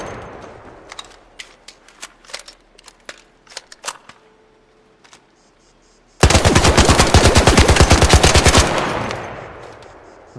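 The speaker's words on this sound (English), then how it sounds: "So we'll stand behind this line and let's fire." Automatic gunfire in the video game Arc Raiders: scattered single shots and short bursts at first, then a loud, sustained rapid-fire stream of rounds lasting a couple of seconds, fading into echo.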